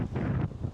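Gusty wind buffets the microphone in a brief, low rumbling roar at a beach in Kamakura, Japan.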